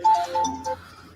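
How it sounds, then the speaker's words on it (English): A phone ringtone chirps in three short melodic bursts during a podcast call, fairly close and clear, then fades to quiet. "Ringing."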